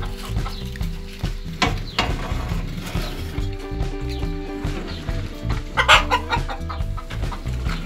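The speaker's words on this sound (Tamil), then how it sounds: "நம்ம ஊரில் இருக்கிற பெரிய சாவல் கோழி எல்லாமே இருக்கு" Chickens and a large country rooster cluck and chatter nearby in a backyard coop, with repeated bursts of clucking over a busy background of mechanical rattling.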